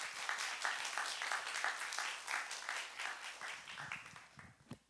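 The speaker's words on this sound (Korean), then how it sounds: "여러분 큰 박수 부탁드립니다." Audience applause welcoming a Korean world-music group at a humanities performance event, fairly faint and distant, with a rhythmic, partly synchronized clapping pattern that tapers off at the end.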